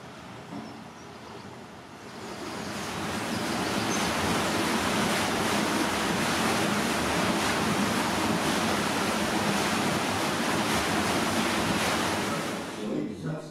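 A mill's water wheel turning at the Moulin de Châtillon, heard as a steady, loud rush of churning, splashing water that swells after a couple of seconds and holds, with no clear speech.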